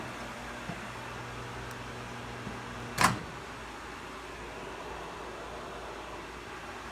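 A microwave oven runs with a low steady hum, a faint tone near the start and a sharp click about halfway through.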